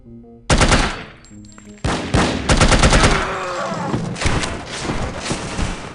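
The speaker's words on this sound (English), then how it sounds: "Rapid fire weapon." Rapid-fire weapon shooting in the video game No One Lives Forever: loud, close bursts of automatic gunfire with heavy thumping shots that repeat in fast runs for several seconds.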